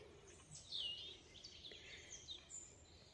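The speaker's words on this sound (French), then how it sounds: "Puis on entend plein les oiseaux chanter." Birdsong in a forest on a calm day, with faint, scattered high chirps and short calls coming from a distance over a quiet background.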